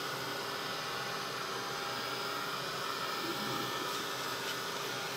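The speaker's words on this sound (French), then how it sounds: "Et on y va avec le heat gun." A heat gun blows hot air to dry a handmade ocean-themed card, a steady, loud broadband whoosh holding evenly throughout with no talk.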